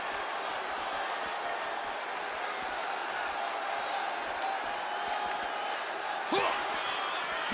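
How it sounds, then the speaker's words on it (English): Arena crowd noise from a capacity audience in the WWE 2K26 wrestling video game, a steady broad roar running throughout with a brief sharp impact near the end. "And listen to this capacity crowd."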